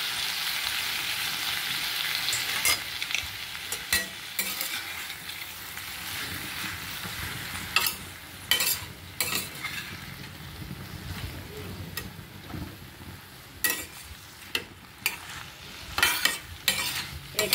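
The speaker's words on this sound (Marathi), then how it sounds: "एकसारखं असं खालीवर चांगलं परतून घ्यायचं आहे कारलं आपल्याला हे" Bitter gourd being stir-fried with salt and masala in a pan, a steady sizzle and frying hiss with intermittent scraping stirs and clinks of the spatula, close and fairly loud, no talking.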